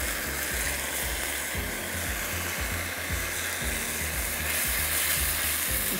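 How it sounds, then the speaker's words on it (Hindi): Tomatoes fry with spices in a pan, giving a steady broadband sizzle with a low rhythmic scraping or stirring pattern running under it, fairly loud and close, with no talking. "इसको हम अच्छी तरह फ्राई करते हैं, थोड़ा सा भूनते हैं"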